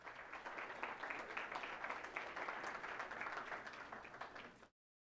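A church congregation at a Sunday service claps in a sustained, even round of applause for close to five seconds, then cuts off abruptly into silence.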